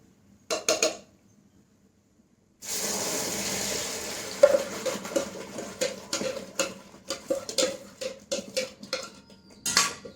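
Ground beetroot paste poured into hot ghee in a pan for beetroot lehyam, with a couple of soft clinks, a pause, then a steady sizzle under repeated scraping and spoon clatter against the pan.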